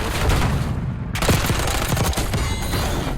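Rapid automatic gunfire from a first-person shooter video game, loud and continuous, with dense bursts of shots and a brief lull before firing resumes.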